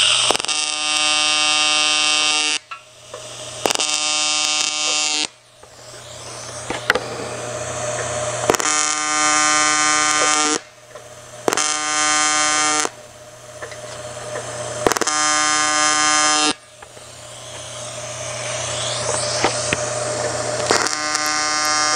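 TIG welding tack welds on thin sheet metal, a steady electrical buzz that switches on and off in repeated bursts of a few seconds each, loud and close with brief quiet gaps.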